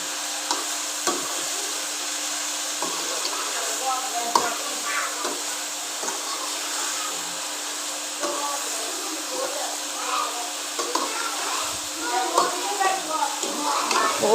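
Okra mixed with salt, red chili and turmeric, stirred in a pan and sizzling steadily up close, with scraping stir strokes and soft clatter throughout.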